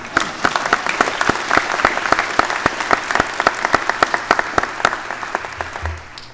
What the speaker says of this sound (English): And she gets a round of applause all on her own.